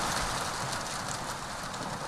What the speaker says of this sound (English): Good rain on the window.